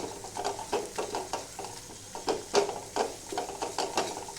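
Garam masala, chili powder and coriander powder fry in hot oil for a chicken fry, stirred in a steady rhythm of scraping strokes over a soft, continuous sizzle, close and alone with no talk.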